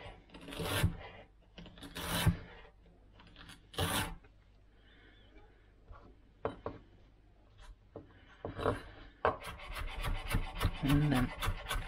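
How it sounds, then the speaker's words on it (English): A knife slicing a peeled vegetable on a cutting board, heard as a series of close crisp cuts and board knocks, sparse at first and then quicker and denser, with faint background voices. "And I'll just first cut that into slices."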